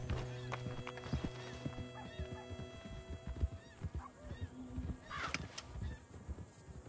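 Horses ridden in Red Dead Redemption 2, hooves clip-clopping in a steady, close rhythm amid outdoor ambience with birds and insects, no voices.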